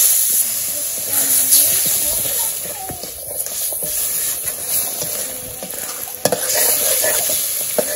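Meat frying with turmeric, salt and spices in a pan makes a loud, steady hiss and sizzle that continues throughout, with occasional stirring scrapes and a brief clank near the end.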